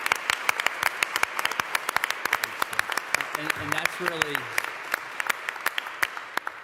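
A group at a roundtable discussion claps in a sustained round of applause, individual claps distinct and brisk, while someone speaks briefly over it partway through.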